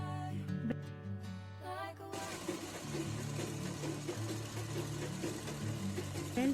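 A sewing machine double-stitches the belt of a petticoat, starting after a pause and then running in a fast, steady mechanical chatter close by.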